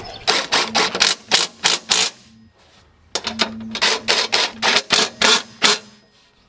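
A zip tie is ratcheted tight in rapid zips in two bursts during a Jeep inner fender install, each a string of sharp clicking pulls, separated by a brief pause, loud and close.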